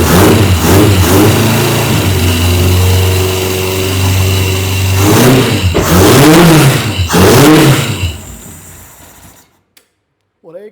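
An abandoned kit car's engine, unused for 24 years, cranks, catches and revs loudly several times in rising surges, then cuts off abruptly into silence.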